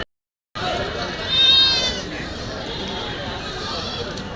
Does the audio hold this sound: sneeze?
no